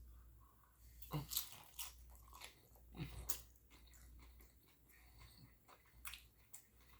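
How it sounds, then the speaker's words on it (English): Crunchy bites and wet chewing of chicken nachos with beans and cheese, close to the mouth and fairly quiet, with several sharp crunches spaced through a steady soft mastication. "That was a weird chew."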